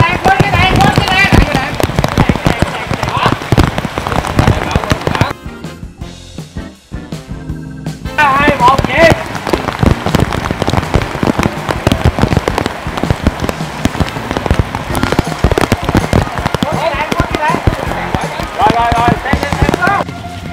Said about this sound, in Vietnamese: Giờ lên mưa giả lại.